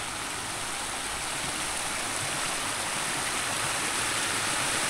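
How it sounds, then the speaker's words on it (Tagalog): Floodwater overflowing from a fishpond during a flood, a loud, steady, close rush of churning water that never lets up, with no voices. "Ayan ang tubig sa labas oh. Umapaw na."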